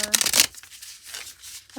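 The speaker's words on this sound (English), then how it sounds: "They are pre-shuffled, but I'm going to just shuffle them a couple more times." Tarot cards being shuffled by hand, a short crisp riffle of card flutter up close lasting under half a second, followed by a quiet gap and the start of a voice.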